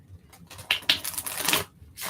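Rapid papery riffling of a tarot card shuffle, a couple of quick bursts of flicking cards up close, with no talking.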